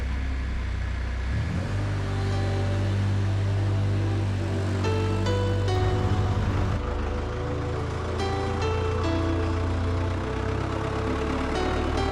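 A farm tractor engine idling, then revving up hard while pulling out a loader bucket, a loud sustained low rumble that shifts pitch and settles, with faint clanks, no talk.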